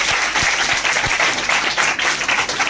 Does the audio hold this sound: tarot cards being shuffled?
no